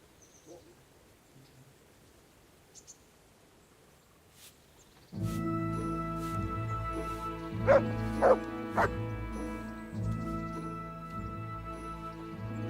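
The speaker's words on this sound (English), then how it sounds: "There's the good doggy." In the medieval video game Kingdom Come: Deliverance, a dog barks a few times, loud and close, after a quiet stretch. The barks sit over a steady bed of game ambience and music.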